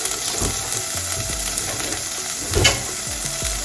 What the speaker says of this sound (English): We're going to saute this until it becomes nice and soft, but not too soft because we want to still get some of that flavor.